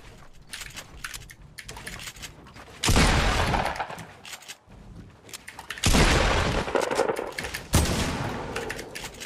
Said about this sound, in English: I shot my ramp, bro, but you shot me